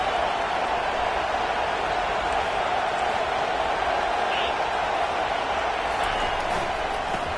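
Stadium crowd at a college football game against Ole Miss, a steady, dense roar of cheering and noise that holds throughout, with a commentator talking over it.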